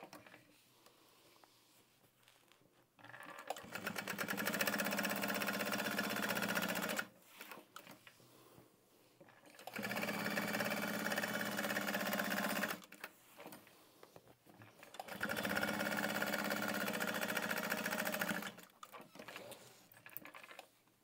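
A sewing machine bastes a pocket onto a canvas tote bag in three steady, close bursts of stitching, each lasting a few seconds and separated by short pauses, with no talking.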